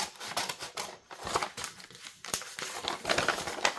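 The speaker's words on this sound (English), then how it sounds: "I'm just going to cut." Scissors snip through a paper bag for a junk journal, a close run of crisp cuts and crinkling paper rustles with short pauses between strokes.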